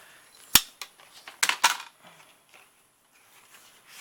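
Scissors cut brown cardstock for a fall-themed handmade card: a few sharp, close snips in quick succession, then quiet handling noise.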